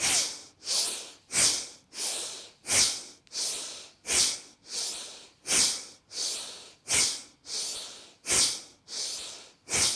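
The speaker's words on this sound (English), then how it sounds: "Inhale, stretch up. Big breath. And then big exhale." Deep yoga breathing during an abdominal practice: a steady run of about fourteen forceful, airy breaths, each a sharp rush of air in a regular rhythm, close and fairly loud with no talk.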